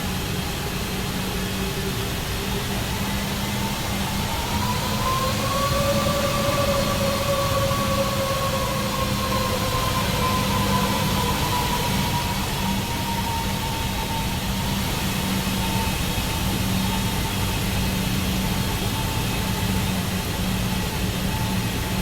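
An Airbus A330-300 sits in the X-Plane 12 flight simulator with its jet engines running, a steady, dense roar and whine that holds evenly throughout, with a tone that slowly rises and falls, and no talk over it.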